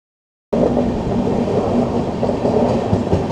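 A passenger train runs on the rails near Morena Junction with a loud, continuous rumble and a rhythmic clickety-clack of wheels, heard close from on board.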